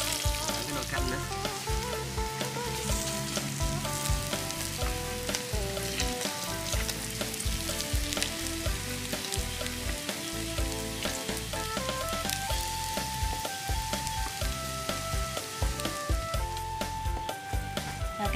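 Vietnamese fish cake (chả) fries and sizzles in a pan, a steady crackling hiss that lasts throughout beneath background music, with no voices.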